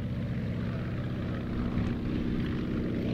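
A Polikarpov Po-2 biplane engine runs in a steady, buzzing drone, like a big lawnmower engine, continuous and fairly close throughout the clip.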